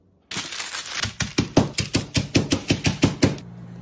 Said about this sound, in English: you can also have a little release of frustration and use a meat tenderizer.